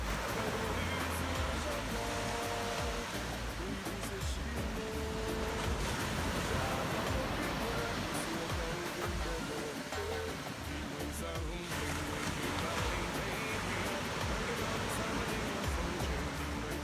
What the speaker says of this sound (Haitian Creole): En face là, toujours Grande Saline, c'est la mer.